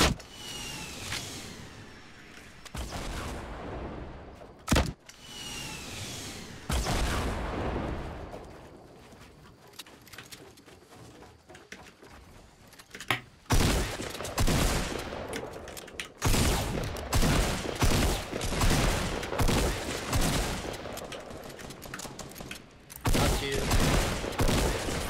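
Gunfire in the Fortnite Battle Royale video game: dense, repeated bursts of shots and volleys throughout, loud and close, with a voice speaking briefly between them.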